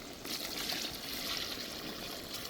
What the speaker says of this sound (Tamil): இந்த நேரத்தில் தான் தண்ணி சேர்க்கணுண்ணா நீங்கள் ஒரு அரை லிட்டர் அளவுக்கு தண்ணி சேர்த்துக்கலாம்